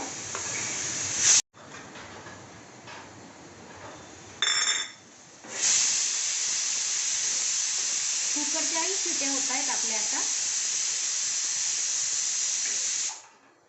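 Dried coconut (sukha khobra) roasting in a pan for a Khandeshi mutton rassa masala, a loud steady hiss and sizzle with a sharp cut near the start and a brief gap before it resumes, close and continuous.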